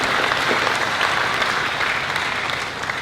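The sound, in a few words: audience applause at commencement ceremony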